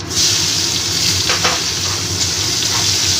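Chopped onions frying in hot oil with cumin and whole spices for a chicken curry, a loud steady close sizzle with a few scraping stirs of a spatula in the pan, no talk.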